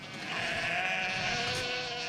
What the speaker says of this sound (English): Rounding up a herd of sheep is no small task.